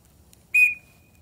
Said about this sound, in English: So the quick whistle